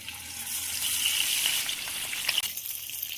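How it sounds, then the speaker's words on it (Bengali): Fish frying in hot oil in a wok, a steady loud sizzle and crackle that runs without pause, with a brief sharper spit near the end. "মাছ ভাজার জন্য কড়াই বসিয়ে দিয়েছি, তেলও দিয়ে দিয়েছি। তো মাছগুলো ভাজার জন্য দিয়ে দেবো।"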